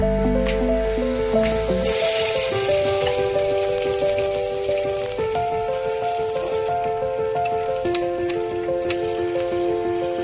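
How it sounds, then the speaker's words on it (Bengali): Chilli powder, ginger-garlic paste and onion paste hitting hot oil in a pan, a loud, dense, continuous sizzle and crackle with wet spattering, close up, over a tonal music track. "শুকনো লঙ্কা গুঁড়ো, আদা রসুনের পেস্ট এবং কাঁচা পেঁয়াজের পেস্ট, সবগুলো মশলা গরম তেলের মধ্যে দিয়ে দিচ্ছি।"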